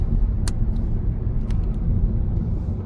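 A Toyota Camry, a 2026 model, drives along a road through a left turn, giving a steady low road and engine rumble with a couple of faint ticks on top and no talk.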